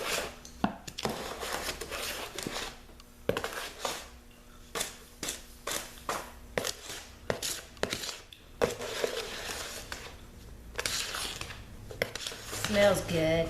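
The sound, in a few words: whisk stirring thick bath bomb mixture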